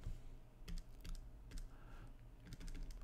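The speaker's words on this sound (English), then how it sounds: "let's be very careful when we type all of this into the calculator" Fingers tapping numbers into a calculator, a series of faint light clicks in irregular quick groups over a low steady hum, close and quiet with no talking.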